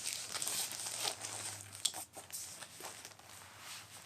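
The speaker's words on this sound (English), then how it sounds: "normally what I do is I fold the diaper up like this" An adult diaper being folded up, giving a steady close crinkling of plastic backing with a few sharper rustles, no voices.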